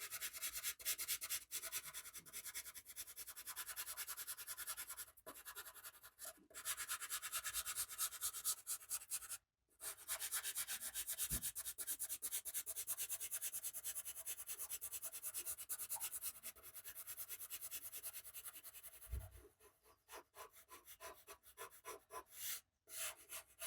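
A colored pastel pencil rubs back and forth on paper to lay down a berry color, giving a close, soft, continuous scratchy hiss with brief pauses between strokes.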